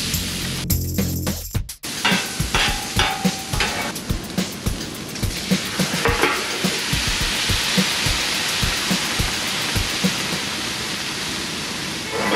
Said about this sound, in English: Ooh, listen to that sizzle